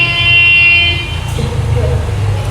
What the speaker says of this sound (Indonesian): bunyi klakson memekakkan telinga